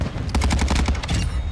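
Rapid automatic gunfire in Call of Duty Modern Warfare DMZ, a loud close burst of about a dozen shots in quick even succession, lasting just over a second before cutting off.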